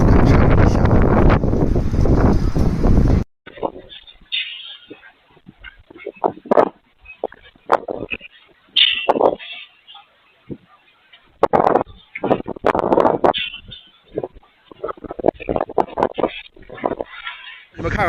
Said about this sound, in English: 你们看看刚才的风有多大！